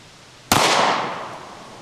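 A single sharp 9mm pistol shot from a SIG P365 firing 115 grain Fiocchi ammunition cracks loud and close, then rings out in a decaying echo with no voices.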